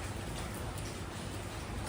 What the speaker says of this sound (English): Maybe perhaps raining a little bit more now.